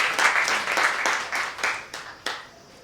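An audience claps at a student election debate, a brisk burst of applause with distinct sharp hand claps that thins out and fades toward the end.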